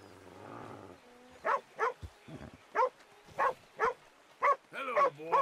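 A dog in Red Dead Redemption 2 barks repeatedly in short, evenly spaced yelps of moderate loudness, following a low rumbling stretch at the start, with no talk over the barks.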